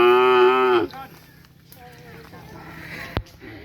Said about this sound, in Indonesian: Ini sapinya teman-teman